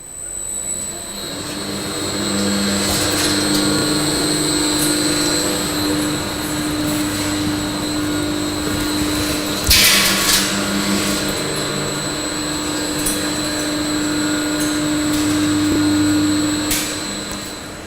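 Automatic drum mixer running after start is pressed on its panel, giving a steady, loud mechanical whir with a constant hum and high whine, a brief louder surge midway, no voices.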